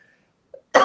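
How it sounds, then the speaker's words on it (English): A single sharp, close cough from a woman, bursting out abruptly after near silence with a brief faint sound just before it. "oh, excuse me, I'm going to cough."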